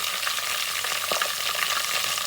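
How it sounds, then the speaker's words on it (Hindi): Mutton pieces frying with garlic in a karahi, a loud, dense, continuous sizzle with a few sharper spits and stirring clatters, close up and without voices. "इसके अंदर मैं ये सारा गोश्त ऐड करूंगी और इसको 3-4 मिनट के लिए भूनूंगी।"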